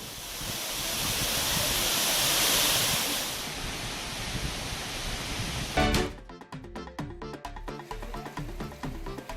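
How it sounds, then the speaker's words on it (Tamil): Meghamalai waterfall crashes down from a 40-foot rock in a loud, dense roar that swells and holds for several seconds before cutting off abruptly. "மேகமலை அருவியில் 40 அடி உயர பாறையிலிருந்து தண்ணீர் ஆர்ப்பரித்து கொட்டுகிறது."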